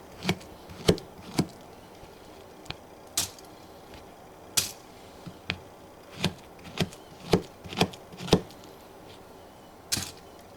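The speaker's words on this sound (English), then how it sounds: "you slice up the banana and go ahead, put into the cereal." A knife slices a banana into a bowl of corn flakes, about a dozen sharp, separate cutting taps at an irregular pace, close and fairly quiet, without talk.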